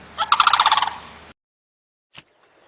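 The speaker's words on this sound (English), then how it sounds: "The crane is a large bird with long legs and a long neck." A crane calling: one loud, close burst of rapid, rattling pulsed notes lasting about a second, cut off abruptly and followed by silence and a single faint click.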